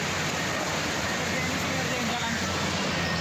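Steady rain pours down at a flood evacuation site where residents have fled to higher ground, a dense, continuous hiss filling the scene throughout with a low rumble underneath.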